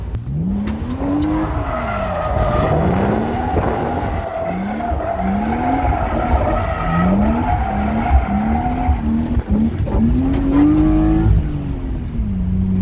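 A BMW E36 drift car howls through repeated revving swells, the engine pitch rising and falling in rhythmic surges over a constant rasping tire squeal, loud and close throughout.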